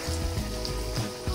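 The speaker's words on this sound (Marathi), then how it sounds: "तळायला सुरुवात करते. एक एक वडी आपण त्याच्यात टाकू" Cabbage kofta fritters sizzle steadily in hot oil, a soft continuous crackle with faint bubbling, close and alone without talk.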